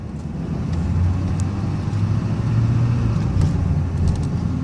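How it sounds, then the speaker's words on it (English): A GMC Sierra 2500HD pickup with a 6.6L turbo diesel and four-wheel drive drones steadily while driving, its low engine rumble and road noise continuous and close throughout. "Let's drive the truck a little bit."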